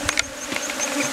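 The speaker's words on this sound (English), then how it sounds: "the colony has a very big population of bees" A dense, steady buzz of many honey bees from a strong, heavily populated colony during bee venom extraction, close and continuous with a few louder passes from individual bees, with no speech.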